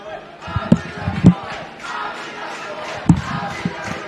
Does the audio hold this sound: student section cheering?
yes